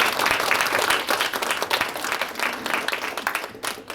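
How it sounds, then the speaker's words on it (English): A crowd applauds the organizers at a community panel on anti-Asian hate, many hands clapping in a thick, continuous wash that tapers slightly toward the end. "Please, a round of applause for them."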